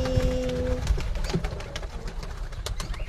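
Pet pigeons with their young give soft, low, throaty coos close by, over a background of light rustling and clatter.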